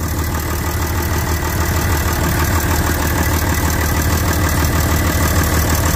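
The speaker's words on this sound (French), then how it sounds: "niveau moteur, il tourne comme une horloge" A truck engine idles steadily and loudly, a smooth, even rumble with no change in pace throughout.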